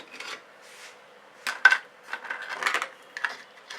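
A scrape dish handled during acrylic fluid pouring, giving faint scattered clinks and light scraping rubs of a dish on a hard surface, short irregular contacts in a quiet room.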